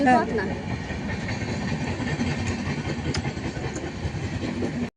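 A voice mimics a train, a steady chugging rumble with rail-like clatter that runs continuously for several seconds, close and fairly loud.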